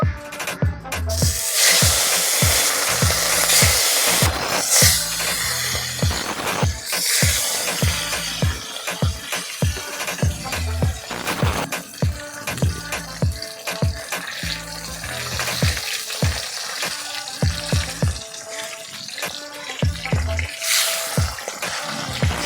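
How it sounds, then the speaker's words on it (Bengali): Vetki fish frying in mustard oil in a wok, a steady close crackling sizzle punctuated by frequent knocks and scraping of utensils throughout, no voices. "সর্ষের তেল দিয়ে মাছগুলোকে ভেজে নিই"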